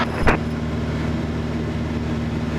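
RV-7 light aircraft engine during takeoff on runway 21 right, a steady loud droning hum with firm low harmonics heard from the cockpit, broken early by a brief sharp click.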